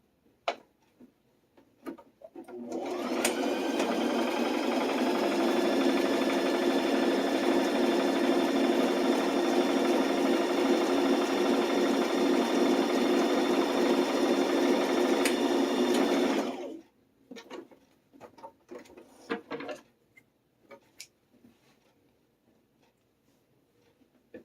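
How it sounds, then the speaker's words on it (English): A sewing machine runs a zigzag stitch along folded fabric on a sewn bunny backpack. The whir is fast and continuous for about thirteen seconds, then stops, followed by a few faint handling clicks. "you can use a zigzag stitch and encase that so that it won't unravel"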